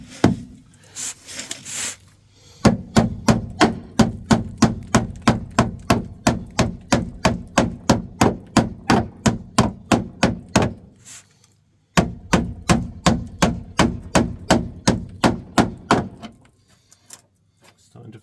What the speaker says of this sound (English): Put your hand on there, start whacking.